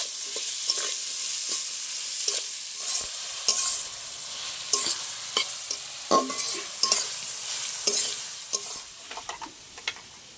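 Chopped onions fry in oil in a pot for a Bengali mutton curry, a steady close sizzle broken by repeated scraping stirs of a utensil against the pan, with no voices.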